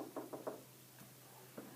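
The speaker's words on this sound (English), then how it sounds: "Kate crossed the sheep meadow and knocked on the castle door." Three quick knocks on a castle door, then a single fainter knock about a second later and another after that, spaced and distinct against a quiet background.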